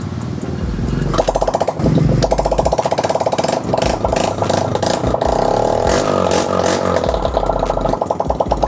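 A freshly repaired motor vehicle engine cranks and catches, then settles into a loud, steady, rapidly pulsing idle and runs on close by with no talking.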